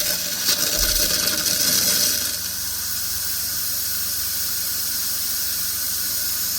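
Steady hissing rush of cold water pouring continuously from a Class B RV faucet, with a brief louder burst at the start before settling into an even flow.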